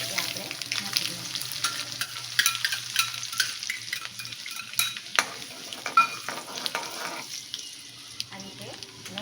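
Garlic and asafoetida hit hot oil where mustard seeds are already popping, giving a soft, steady sizzle with scattered sharp crackles and the occasional stir in the pan.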